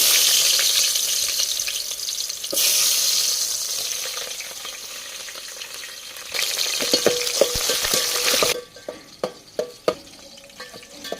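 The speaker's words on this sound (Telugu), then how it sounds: "నూనె అయితే బాగా వేడింది కదండి కావులు ఉల్లిగడ్డలను పచ్చిమిర్చి ఇంక మొత్తం వేసుకొని ఫ్రై చేసుకుందాం" Onions and green chillies frying in hot oil in a home kitchen: a loud, close hiss of frying with stirring, the sizzle surging in bursts, then giving way to a few sharp knocks and clatters near the end.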